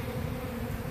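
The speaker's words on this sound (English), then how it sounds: "You can see the bees are orienting to my hive over here with all the comb and the queen" Dense, steady buzzing of many honeybees swarming close around a hive with comb, a continuous loud drone lasting about a second with no talking.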